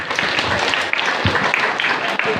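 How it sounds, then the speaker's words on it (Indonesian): A room full of people clapping steadily and loudly for a couple of seconds at a school student council election campaign, dense and continuous, with a few voices mixed in. "tepuk tangan untuk Revan"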